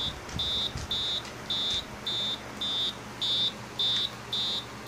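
A homemade Hex Schmitt trigger oscillator circuit emits a regular series of short, bright electronic chirps, about eight evenly spaced pulses, steady and fairly loud over a low hum, sounding like crickets.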